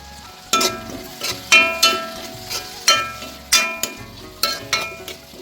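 Onions and curry leaves frying in oil, with a spatula striking the pan in a series of sharp, ringing clanks roughly every half second over a soft background sizzle, close and loud.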